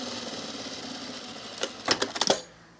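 Sewing machine stitching a Piper boho tunic, running steadily and close for about two seconds, then a few quick separate stitches and clicks before it stops, with no talking.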